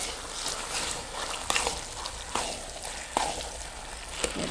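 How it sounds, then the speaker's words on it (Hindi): Maida and milk mukhadi halwa is stirred and roasted in a pan over a low flame, with a continuous hiss under scraping spoon strokes that come roughly once a second, close and fairly loud. "इसको लो फ्लेम पे मैं भून रही हूँ"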